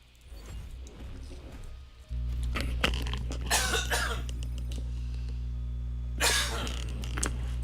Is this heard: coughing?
yes